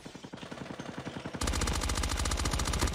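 The DMX9 gun fires rapidly in a mobile shooter video game, starting as a lighter rattling burst and then turning into a loud, dense, sustained stream of automatic gunfire.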